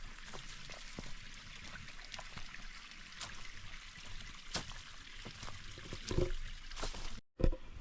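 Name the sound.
gently flowing brook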